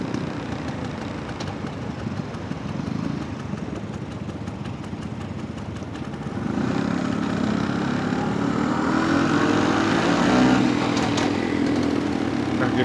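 A 1972 Vespa Super scooter's small two-stroke engine drones steadily through a test ride, its pitch and loudness rising midway as the rider shifts up and accelerates, with wind and road noise mixed in.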